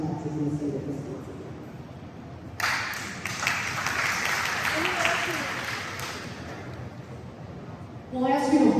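An audience at a governor candidates' education forum breaks into loud applause lasting several seconds, with a voice speaking before and after the clapping.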